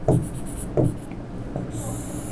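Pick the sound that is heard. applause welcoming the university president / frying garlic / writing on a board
writing on a board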